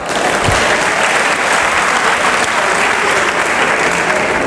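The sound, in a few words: church congregation applauding, acclaiming the Lord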